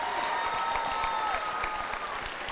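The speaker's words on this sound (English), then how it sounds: "she gets a nice ovation here from the crowd at Waukee Northwest High School" Crowd in a high school gym giving a steady ovation of dense applause at a basketball game, clapping sustained and fairly loud throughout with a faint tone running beneath.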